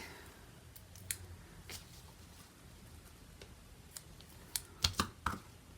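Scissors trimming the edge of a paper card for a handmade ladybug thank-you card: a few crisp, quiet snips clustered near the end over a faint background hush.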